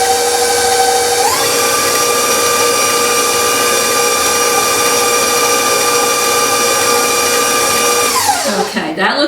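An electric mixer beats pumpkin batter with a loud, steady motor whine that shifts pitch briefly near the start, then winds down at the end.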